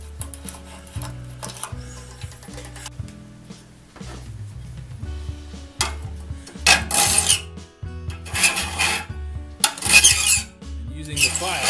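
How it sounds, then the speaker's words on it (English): Hand file rasps across the teeth of a one-man crosscut saw in repeated strokes, starting as quiet scraping and building to louder bursts of gritty filing with metallic ringing between strokes. "Using the file,"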